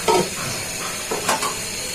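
A spoon works through a sizzling pan of potato, masoor dal, tomato and Malabar spinach stems, scraping and stirring under a constant frying hiss, with a couple of louder strokes.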